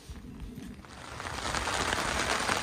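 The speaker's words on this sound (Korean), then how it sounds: "지금 비가 엄청 옵니다." Heavy rain patters densely on a taut overhead tarp at a campsite in Appenzell, Switzerland, a steady rushing hiss that swells slightly louder as it continues.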